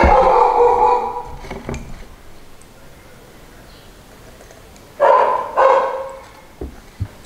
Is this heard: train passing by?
no